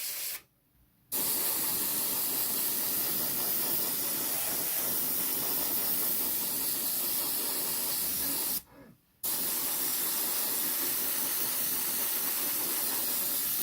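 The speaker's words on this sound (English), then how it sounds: "I'm just going to lightly spray over all of the engine pods." An airbrush sprays paint onto a Battlestar Pegasus model's engine pods with a steady, close hiss, running continuously and briefly stopping twice before starting again.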